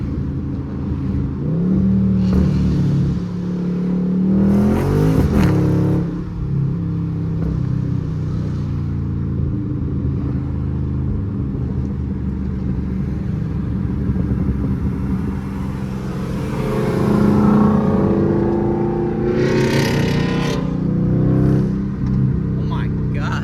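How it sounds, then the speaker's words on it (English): Dodge Scat Pack engine revving hard as its wheels spin on wet pavement in the rain, a loud sustained roar rising and falling over a steady low drone, with a person talking over it. "Every time I hit the gas, I am spinning."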